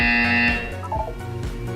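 Harsh electronic buzzer from the Portal 2 video game, a loud sustained buzz that cuts off after about half a second, followed by quieter game tones.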